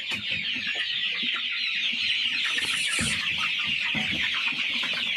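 Steady, close chorus of broiler chickens clucking and peeping inside a poultry farm shed, an unbroken flock murmur with no talking.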